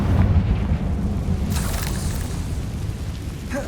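A Confringo fire spell blast in Hogwarts Legacy lands as a loud, sustained rumbling boom with a brighter burst partway through, thick low roar filling the whole stretch.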